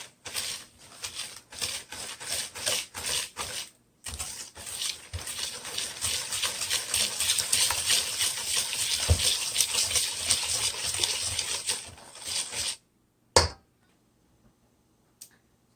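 Wet ingredients for chocolate chip cookies, including white sugar, being mixed in a bowl: a run of quick taps, then about nine seconds of steady wet churning, stopping abruptly with one last knock, close and moderately loud.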